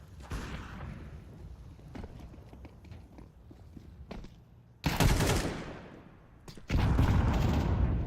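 Pistol fire in Counter-Strike at a PGL Bucharest 2026 esports match, players charging through connector: a rapid run of sharp shots and footsteps, then two loud, dense bursts of fire late in the clip.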